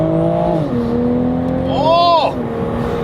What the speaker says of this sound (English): You can hear the turbo whistle.